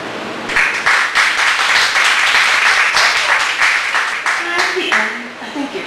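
Audience applause at a poetry open mic in a Chicago cafe, a dense burst of clapping that starts suddenly, holds steady for several seconds and then thins out, with some voices speaking under the tail.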